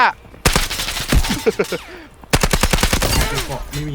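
Loud bursts of automatic rifle fire in the shooter Delta Force, two long rattling volleys separated by a short pause, with a voice calling out between them.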